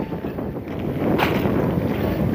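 Wind gusting across open salt evaporation ponds, a loud, steady rushing roar buffeting the microphone with no one speaking.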